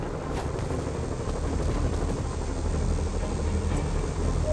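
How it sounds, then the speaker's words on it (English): Helicopter in the Marvel's Spider-Man video game, a steady rotor drone and low engine rumble that holds evenly throughout, loud and near. "I can use those helicopters to swing"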